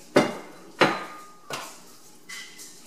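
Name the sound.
beans being added to a pot of chicken chili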